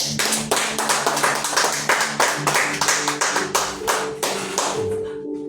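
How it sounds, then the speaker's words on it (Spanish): Church congregation clapping along in rhythm after a call to applaud the Lord, steady repeated hand claps over a sustained musical tone, fairly loud, stopping near the end. "Dale un aplauso al Señor."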